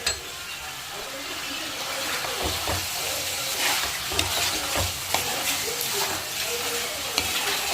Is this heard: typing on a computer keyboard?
no